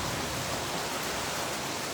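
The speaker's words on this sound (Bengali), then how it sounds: "এই দেখুন কত বৃষ্টি" Heavy rain pours down steadily outdoors, a dense, even hiss of close downpour that holds unbroken and loud throughout, with no voices.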